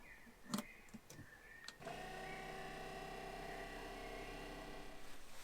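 A water pump in a Mercedes Sprinter van plumbing setup, powered from a portable fuse board, starts after a few clicks and settles into a steady, faint electric whine and hum that holds to the end.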